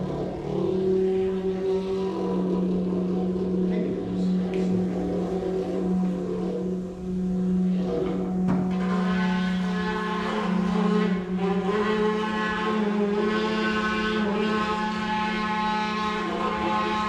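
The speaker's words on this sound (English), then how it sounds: "interesting sound is these Oral-B Pulsar Plus electric toothbrushes" Oral-B Pulsar Plus electric toothbrushes buzz against borrowed drums, making a steady, droning hum with strong low tones and layered overtones that sustains loudly and alone for the whole stretch.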